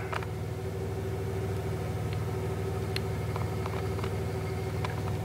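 A Honda Big Red ATC three-wheeler engine idles with a steady low rumble, close by, while faint clicks and knocks come and go around it.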